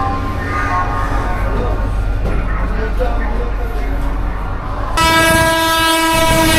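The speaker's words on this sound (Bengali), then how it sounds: "আজকে আমাদের ট্রেন রয়েছে হচ্ছে 7:20 হাওড়া থেকে খড়গপুর লোকাল। তো চলো তাড়াতাড়ি ট্রেনে উঠে পড়ি।" The 7:20 Howrah to Kharagpur local train rumbles loudly and steadily close by, then a long, harmonically rich horn blast begins about two thirds of the way through and continues to the end.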